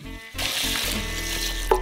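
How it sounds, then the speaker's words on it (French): Water pours steadily into a metal saucepan over buckwheat, a continuous splashing rush close by, ending with a small clink. "On verse 2 litres d'eau."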